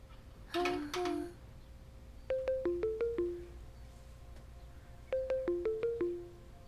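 A phone rings with a bright melodic ringtone: a short tonal burst first, then a descending chime phrase that repeats twice with a pause between, clear and fairly close in a quiet room.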